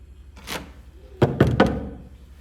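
Someone knocks on a closed room door in a home, giving three firm, close thuds in quick succession after a fainter earlier bump.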